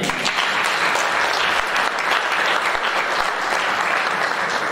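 A church congregation clapping in worship for the Lord, dense sustained applause filling the room evenly from start to finish.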